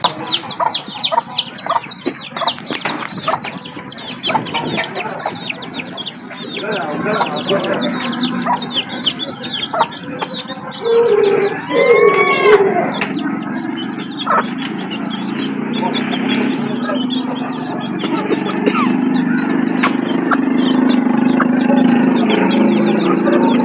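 A flock of chickens for sale clucks and squawks continuously, with a rooster's call rising briefly midway and faint voices underneath.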